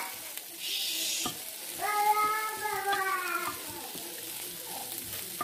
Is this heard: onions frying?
yes